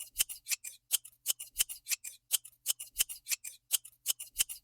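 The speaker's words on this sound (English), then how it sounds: "I'm going to try to very carefully trim this down as straight as possible" Scissors snipping through card stock for handmade easel cards, a quick, steady run of crisp close-up cuts repeating about every quarter second, with no voices.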